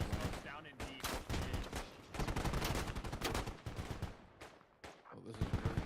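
Dense, continuous automatic rifle fire in the military shooter Squad, with overlapping bursts from several weapons, near and far, during a firefight amid smoke grenades, with a voice talking underneath.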